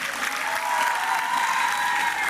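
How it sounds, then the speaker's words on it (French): Steady audience applause at a televised singing talent contest, loud and continuous with no pauses, a few crowd voices mixed into the clapping. "Applaudissements pour Hans,"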